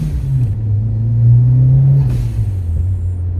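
A 1988 Ford Escort RS Turbo engine drones steadily while driving, a low rumbling note that swells slightly midway, then eases off, close and continuous with no talking.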